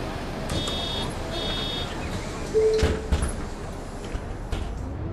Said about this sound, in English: Close the doors and we're good to go.